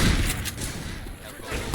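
Shotgun fire in the zombie shooter game Left 4 Dead 2, during the Hard Rain campaign: a few heavy booms and thuds in quick succession, loud and near, mixed with game noise.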